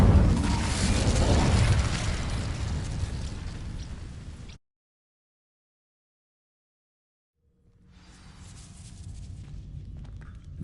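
Incendio fire spell set off on dry vines in a Hogwarts game: a loud burst of roaring, crackling flame that fills the first four seconds and cuts off to silence, followed by a quieter rumble of burning as the sound returns.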